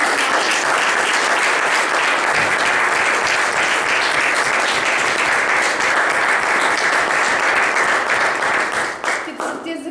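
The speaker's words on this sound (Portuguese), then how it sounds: "Portanto, palmas para esta organização." Sustained, dense applause from an audience at a talk or workshop event, loud and steady for nearly ten seconds before tapering slightly at the end.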